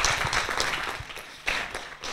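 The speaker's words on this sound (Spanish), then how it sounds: "yo creo que un aplauso o algo, por favor" Applause from a tech conference audience at a talk in Spain, a dense steady patter of many hands clapping with a few sharper bursts, fairly close and continuous throughout.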